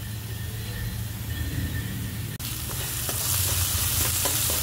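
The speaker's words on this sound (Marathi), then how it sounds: "आता आपण भाजीला फोडणी करून घेऊ." Onions and spices sizzle hard in hot oil while being tempered for pav bhaji, a steady close frying hiss that swells sharply partway through and then stays loud and continuous.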